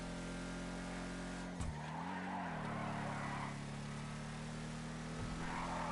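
Muscle car in GTA Online, a steady loud engine drone held throughout, broken by a brief skid and tire squeal near the two-second mark and a shift in pitch, with no talking over it.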